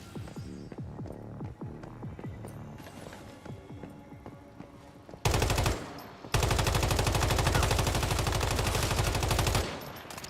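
Rapid automatic gunfire from the survival shooter game Once Human comes in loud, dense bursts after a quieter musical stretch, with a brief pause before a long sustained volley that then cuts off.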